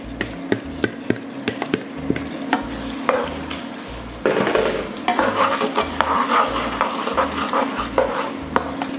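Sliced peppers and onion cook in a pot of thickening sweet and sour sauce for pork, with soft sizzling and repeated stirring knocks and scrapes of a utensil against the pan.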